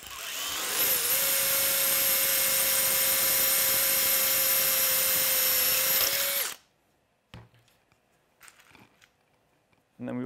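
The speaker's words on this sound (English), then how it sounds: "Drill a hole on the top one here." A power drill boring a hole in a metal robot frame whines loudly and steadily for about six seconds, then stops, followed by faint clicks and handling noises nearby.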